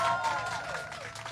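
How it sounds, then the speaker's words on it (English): An outdoor crowd applauds a performing group playing in the rain, a brief spread-out patter of clapping with faint cheering at moderate distance. "Can we give a big round of applause to this group behind us who's doing an amazing job and doing it in the rain?"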